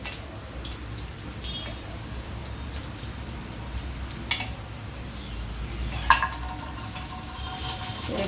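Beetroot cutlets fry in a pan of oil with a soft, continuous sizzle, with a couple of faint clinks from handling.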